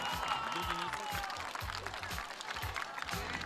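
An outdoor audience at a village harvest festival contest applauds a potato-peeling result, steady clapping mixed with crowd noise and a few low thumps, at moderate distance.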